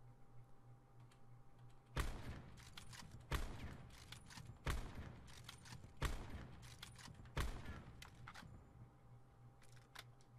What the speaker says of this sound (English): we are going to fire 5 shots.